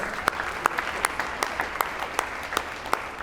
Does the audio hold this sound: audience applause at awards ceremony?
yes